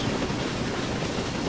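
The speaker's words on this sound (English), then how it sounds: "Pulling a passenger train." A steam locomotive, a 3F Jinty, pulls a passenger train past at a distance, a steady broadband roar without distinct puffs or clanks.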